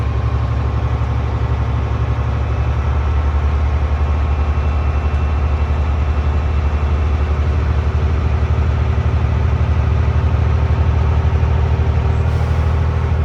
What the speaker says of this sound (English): I'm going to press the gas, bring my RPM to 1500, look my primary and secondary gauges to reach 125